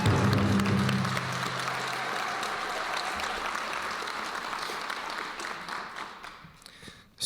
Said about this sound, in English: But can I get a huge round of applause for Dr. Rendon,